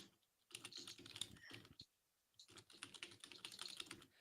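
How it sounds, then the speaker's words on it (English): Typing on a computer keyboard: two bursts of quick, close clicking separated by a brief pause, with no voices. "Carlo, stop typing your love letter."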